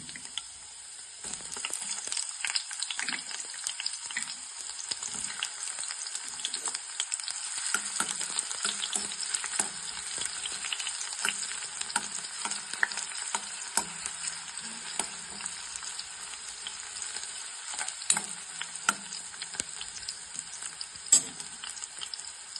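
Onion sizzles and crackles steadily in hot oil in a pan alongside turmeric slices, with occasional scrapes and stirs of a spatula, a close continuous frying hiss with no talk.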